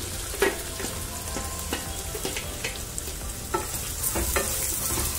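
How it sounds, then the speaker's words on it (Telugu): Sliced onions fry and sizzle in hot oil for a mutton fry, a steady hiss with repeated clinks and scrapes of stirring, heard close and alone. "ఆనియన్స్ ఆయిల్లో వేసుకుంటున్నాను"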